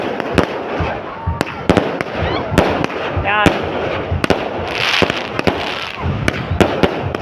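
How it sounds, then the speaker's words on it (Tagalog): Fiesta fireworks crackle and pop in sharp, irregular bursts over a loud rushing background, with people talking and cheering through it. "Nakasunod ng fireworks."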